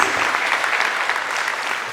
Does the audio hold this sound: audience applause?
yes